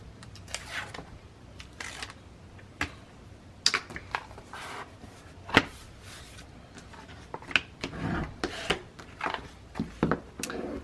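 A Teflon bone folder burnishes the edges of an album cover, giving repeated short scraping rubs and soft taps at varying pace, close and fairly quiet, with no talking.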